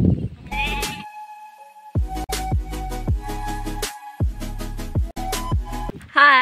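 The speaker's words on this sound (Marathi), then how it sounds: "खूप छान पद्धतीनं बकरी आहेत सगळी" Goats in a farm field bleat loudly and repeatedly at close range, several long wavering cries following one another with short gaps between them.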